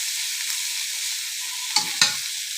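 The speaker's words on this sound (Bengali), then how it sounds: "আমি চিংড়ি মাছটা বেশ লাল লাল করে ভেজে নিয়েছি।" Shrimp frying in a pan until red, a loud continuous close sizzle with two sharp clatters of a utensil near the end, no voices.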